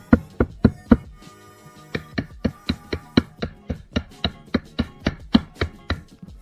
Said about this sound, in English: I hammered all the dovetails together